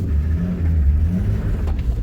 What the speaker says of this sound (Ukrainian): інтересно газує